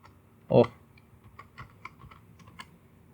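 Typing on a computer keyboard: a loud thump at the start, then a light run of soft key clicks, close and quiet.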